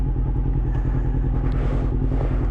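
Honda CBR motorcycle cruising through town streets, its engine a steady, loud, close drone with a continuous low rumble and no pauses.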